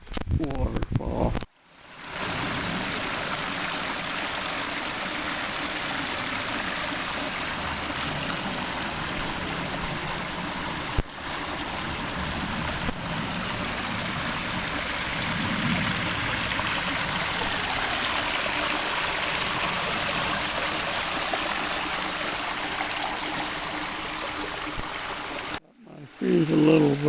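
Steady, close rush of a stream and waterfall in a desert wash near Canyon Lake, a continuous broadband roar running unbroken for about twenty-five seconds with brief quiet at start and end.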